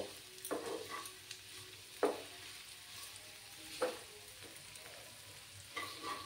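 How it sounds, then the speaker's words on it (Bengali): Dried shrimp frying with onions in a pan over low heat, a quiet steady sizzle broken by a few sharp clinks and scrapes of stirring. "আমি পেঁয়াজগুলোর সাথে চিংড়ি শুটকিগুলো ফ্রাই করে নেব"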